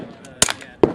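Two sharp shots from a 9 mm SilencerCo Maxim 9 integrally suppressed handgun at a SHOT Show range day, close and loud, about half a second apart.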